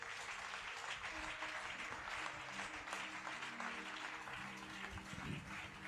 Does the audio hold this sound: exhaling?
no